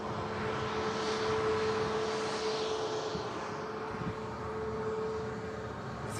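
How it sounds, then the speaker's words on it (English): An aircraft departs Manchester Airport, its engine roar steady and fairly loud throughout, with a sustained tonal hum over broad rumble and no voices. "Just while that aircraft departed."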